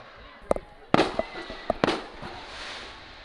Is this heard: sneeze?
no